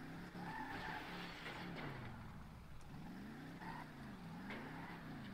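A Blade muscle car, modeled on a Ford Falcon, pops wheelies in GTA Online, its engine revving and swooping up and down in pitch with tire squeals and skids, loud and continuous with no speech.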